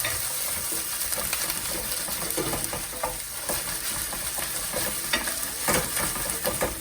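Onions, garlic and ginger fry in a pan for a cauliflower curry. A constant sizzle carries through, broken by frequent scraping and clattering as the mixture is stirred.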